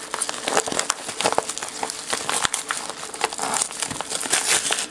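Plastic wrapping on a Moyu Weilong speed cube box being torn open and crinkled up close, a steady run of crisp crackles and rustles with sharp snaps over about five seconds, no talking.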